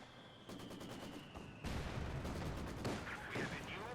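Machine-gun fire rattles in rapid bursts during a Company of Heroes 2 4v4 match, with a louder, denser volley breaking out partway through amid the crackle of other battlefield gunfire.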